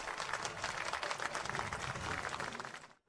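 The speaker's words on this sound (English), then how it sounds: "let us give a warm round of applause to welcome both contestants back to the stage" Audience applause welcoming two contestants back to the stage at a live-broadcast embroidery competition, a dense, steady wash of clapping that holds evenly for about three seconds before cutting off abruptly.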